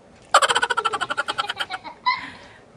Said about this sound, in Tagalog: Dakpa ang manok.